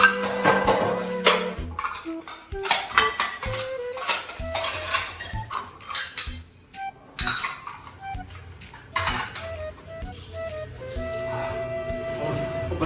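Household dishes, pots and pans being washed, with continual clinks and clatters of metal utensils and cutlery knocking together, close and busy throughout, with small bursts of running water.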